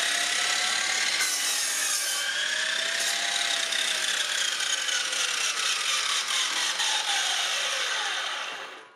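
A miter saw on VFD speed control cuts steel: a loud, steady, continuous grinding whine that holds for nearly nine seconds, then falls away as the blade winds down.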